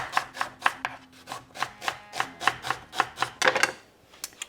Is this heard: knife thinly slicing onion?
yes